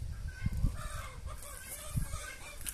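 Chickens cluck close by in an outdoor yard, with a few soft low clucks and scattered bird calls over a busy, noisy background.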